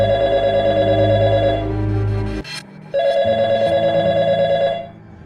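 Telephone ringing in a domestic Indian drama scene: a steady, loud electronic ring that holds for over two seconds, breaks off briefly, then resumes in a second long burst, with no talk.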